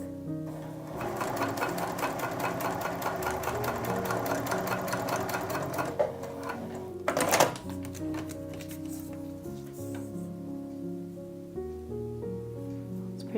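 A Juki TL-2010Q sewing machine stitches through six layers of felt, a fast steady mechanical chatter close up that slows and stops near the end.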